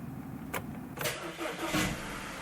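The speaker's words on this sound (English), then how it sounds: "I'm going to start the car again." An Audi A4 B8 engine starts with a short starter crank and catches into a steady idle, followed by a brief rev, recorded close by.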